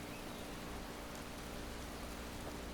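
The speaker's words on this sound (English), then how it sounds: "So now we're experiencing some rain down south here." Rain falling in Skyrim with the Cathedral Weathers mod, a steady, even hiss of rainfall that stays constant and fairly faint throughout, with no other sounds.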